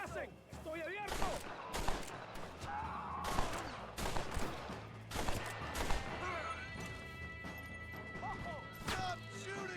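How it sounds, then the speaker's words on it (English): Repeated gunshots and sharp cracks ring out in a Red Dead Redemption gunfight, loud bursts scattered across the scene, with voices shouting in the background and faint hoofbeats. "Stop shooting at me!"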